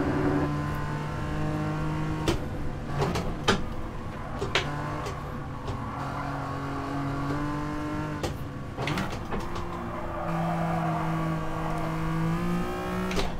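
Race car engine in a racing game, revving and winding up through quick gear shifts, with sharp clicks and abrupt drops in pitch between steady high drones, loud and close.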